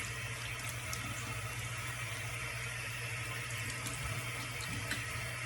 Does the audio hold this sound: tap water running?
yes